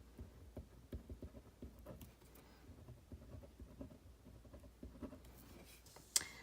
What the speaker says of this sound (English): and I will write that